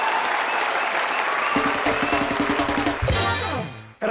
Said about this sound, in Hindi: राखी सावंत के लिए जोरदार तालियां।